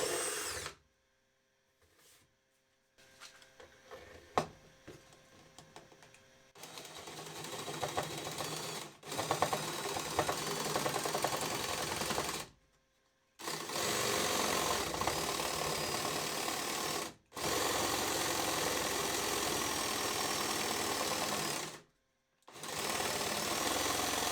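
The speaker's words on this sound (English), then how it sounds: "It is not noisier, nor does it vibrate more than a regular jigsaw." A Parkside jigsaw drill attachment cutting through material such as a kitchen cabinet, heard as repeated loud buzzing bursts of several seconds each, separated by short pauses, with a quieter start.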